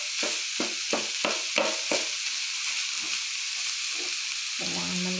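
A spoon or spatula stirs ground beef and pork with frozen green peas in a sizzling pan, giving a run of close scraping strokes over a steady frying hiss.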